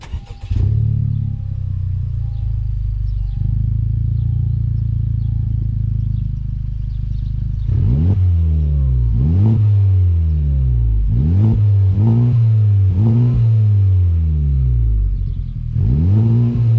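A Honda Civic Type R FK8 with an Invidia R400 exhaust and Mishimoto intercooler idles with a steady low drone, then revs repeatedly in a series of sharp rising and falling blips, loud and close, with no talking.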